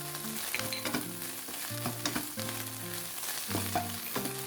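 Eggs with chili and garlic stir-fried in a pan, a steady close sizzle with repeated scraping strokes of a spatula against the pan, continuous and fairly loud throughout, no voices.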